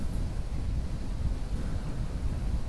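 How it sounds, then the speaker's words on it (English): Steady, strong wind buffeting the microphone outdoors on a disc golf course, a continuous low rumble with no pauses and no voices. "Waiting for a little bit of that wind to die down."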